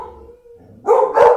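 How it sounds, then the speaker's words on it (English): Pet dogs bark indoors, first a faint whine, then two loud, close barks in quick succession. "Oh, excuse my dogs."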